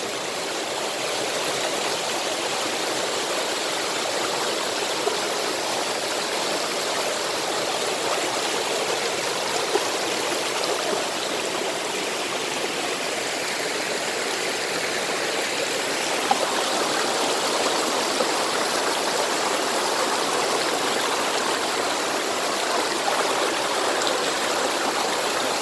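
Mountain stream water flows steadily along a rocky hiking trail on a volcano in the rainy season, a continuous close rushing and burbling with no talk over it.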